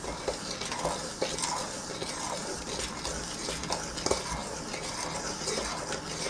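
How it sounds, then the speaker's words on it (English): Cupcake batter is mixed by hand in a bowl, a busy, continuous scraping and slapping of the spoon with occasional sharper knocks against the bowl, close and moderately quiet, with no voices. "I'm gonna quickly kind of mix this together real quick first"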